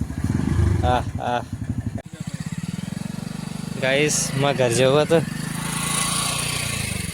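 A motorcycle engine idles and revs nearby with a steady low throb, rising in pitch during a few throttle blips, while people talk over it.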